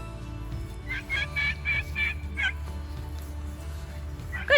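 Turkeys on a pasture farm gobbling in bursts while being herded, several warbling calls close by over a low rumbling background.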